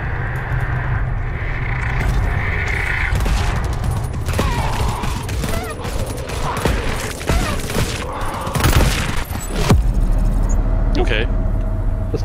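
Gunfire in the video game GTFO, sharp bursts of shots spread across the stretch amid mechanical and engine-like game noise, with someone talking over the action.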